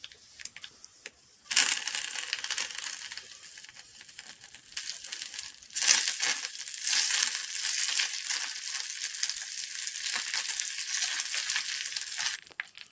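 Mustard seeds, a Byadgi chili and curry leaves fry in hot oil for a tempering, giving a steady crackling sizzle that starts abruptly, swells briefly, then holds until it cuts off.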